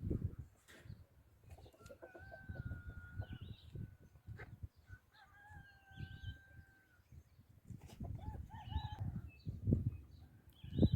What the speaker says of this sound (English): Here's another rooster.